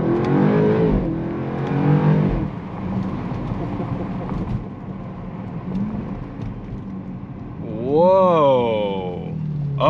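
A BMW X5M SUV engine accelerates hard with a loud, steady roar, rising into a sweeping high-pitched surge near the end, while a voice talks over it at the start.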